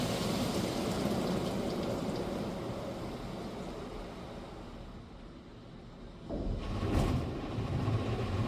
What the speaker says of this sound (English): That better actually be foam that I just sprayed on my car and not just water.